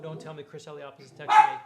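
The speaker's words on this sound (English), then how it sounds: "that's our dog, by the way, who's going crazy" A pet dog barks excitedly and repeatedly, mixed in with a person talking; the loudest, sharpest barks burst in toward the end.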